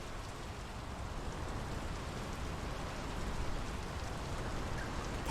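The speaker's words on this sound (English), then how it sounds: "The rain's picking up." Steady rain falls in the game Draugen, a dense broadband hiss of drops on surfaces that keeps an even level and swells slightly midway, with no voices.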